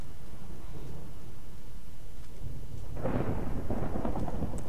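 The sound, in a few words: thunder during a storm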